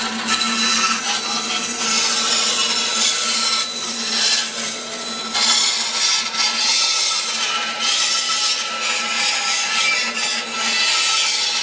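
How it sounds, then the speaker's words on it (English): A bandsaw cuts through a styrofoam rock for a bear habitat build, giving a steady, loud, close rasping whir with scratchy texture that runs unbroken for about twelve seconds, with no talk over it. "I'm gonna take it over to the bandsaw and use that"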